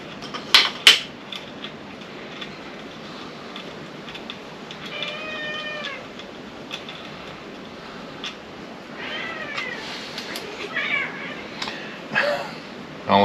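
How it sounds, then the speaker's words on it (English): Cats play-fight indoors, letting out several drawn-out meows and yowls in the middle and near the end, with a few sharp knocks and clatters at the start, heard at moderate distance. "come on, cats, no fighting."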